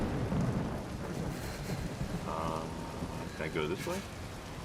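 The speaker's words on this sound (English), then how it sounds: "it's raining so hard in this game." Heavy, pounding rain in the video game Uncharted 4 forms a thick, constant wash with a low rumble, while someone speaks briefly over it and small game cues sound near the end.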